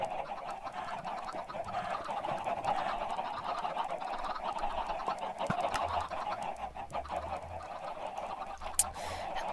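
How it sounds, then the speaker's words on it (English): Poultry in a video game: steady clucking and honking chicken calls fill the scene at moderate loudness, continuous and overlapping, with no talk over them. "how did these chickens even get here?"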